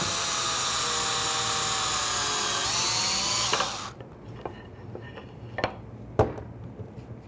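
A power drill whines loudly and steadily while boring a second hole in wood for a screw joint, then cuts off, followed by a few sharp taps and clinks of tools being handled.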